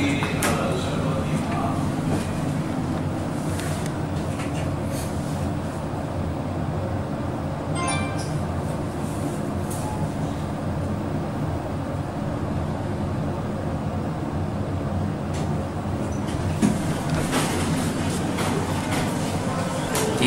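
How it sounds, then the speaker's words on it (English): A Fujitec traction elevator at Home Square in Hong Kong runs with a steady low rumbling hum and machinery drone that holds throughout, with some faint clicks and brief bursts of noise in the middle. "These are traction elevators."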